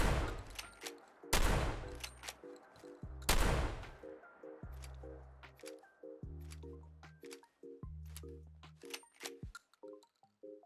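A handmade lever action shotgun mod fired in Fallout 4: two loud, booming blasts early on, followed by a run of crisp mechanical clicks and clacks as the lever cycles and shells are loaded one at a time.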